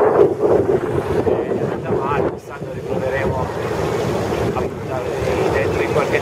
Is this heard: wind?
yes